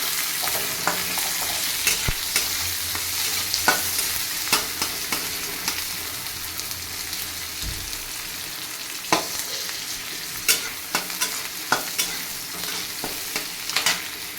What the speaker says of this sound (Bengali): এবার আমি দিয়ে দেবো পেঁয়াজ কুচি ভালো করে ভেজে নেবো লাল লাল করে